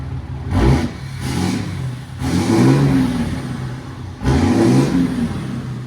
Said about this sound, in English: Give me gas. Rev it. Rev it.